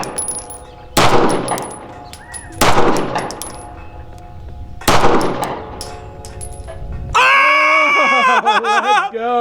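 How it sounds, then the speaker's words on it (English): Three loud, separate 2011-style Springfield Prodigy pistol shots crack out a couple of seconds apart at a range shooting at 200 yards, each followed by a short echo, and then someone yells excitedly. "I'm shooting at 200 yards"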